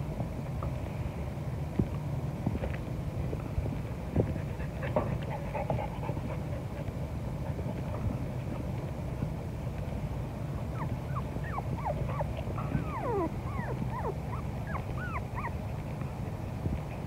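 Four-week-old Patterdale terrier puppies, dirty from play, whimper and pant close by, with quick rapid breaths mixed with repeated high, wavering whines that grow busier toward the end.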